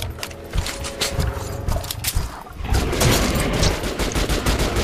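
Sustained automatic gunfire in the video game Metro: Last Light, dense rapid bursts with mechanical clatter that grow louder and heavier in the second half, no talking.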